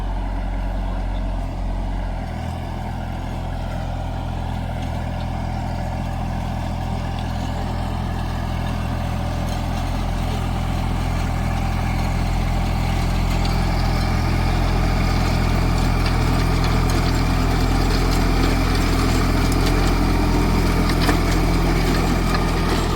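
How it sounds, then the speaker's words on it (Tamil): A Farmtrac Atom 30 compact tractor runs steadily in a clay-soil banana field, its diesel engine a continuous low, even drone that builds slightly in loudness, close and alone without talk. "டிராக்டர் வந்து பழைய மாடலை விட பார்த்தீங்கன்னா இப்போ லேட்டஸ்ட்டாக வர மாடலில் நாய்ஸ் வந்து ரொம்ப கம்மியாக இருக்குதுங்க"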